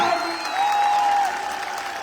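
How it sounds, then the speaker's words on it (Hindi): An audience at a gathering claps together in steady, dense applause, with a thin sustained tone running through part of it. "कैसी ताली बजाते हो?"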